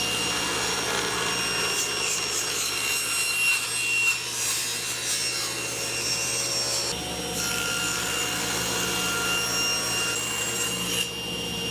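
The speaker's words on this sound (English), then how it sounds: "I'm just going to do two 3/8 inch rips" A table saw rips two 3/8-inch wood strips for sled runners, a continuous loud whirring cut with a brief change in pitch between passes and no talking.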